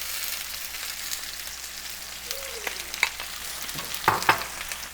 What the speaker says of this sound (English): And then I'm going to toss onions in here.